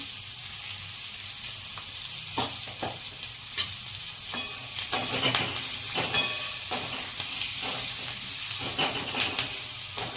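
Green chillies sautéing in hot oil in a pan for a Gujarati stuffed chilli recipe, a steady close sizzle broken by repeated scraping stirs of a spoon, with no talking.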